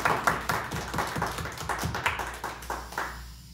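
Church congregation clapping in thanks during a worship service, a moderate scatter of individual hand claps with an uneven rhythm, fading out toward the end.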